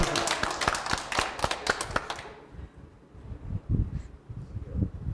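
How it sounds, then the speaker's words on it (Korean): A small lecture audience at a regional talk on tarot and astrology breaks into a brief burst of scattered hand clapping, close and fairly loud, which stops abruptly after about two seconds and leaves quiet room noise. "박수"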